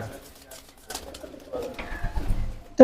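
A Dabwala pigeon coos among light handling noises, with low cooing sounds and a louder call near the end, while people talk nearby.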